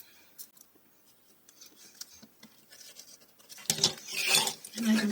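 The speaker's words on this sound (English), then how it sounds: "I can come in with my little scissors and snip off the excess right there" Small scissors snip away excess fabric on a home craft project: faint, scattered little cuts at first, then a quicker, louder burst of snipping and rustling toward the end.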